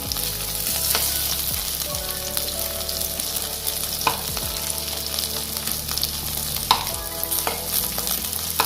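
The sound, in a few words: paneer posto frying and being stirred in pan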